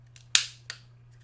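A single crisp snip of scissors cutting the corner of a paper Halloween bookmark, sharp and close, followed by a fainter second click and a steady low hum underneath.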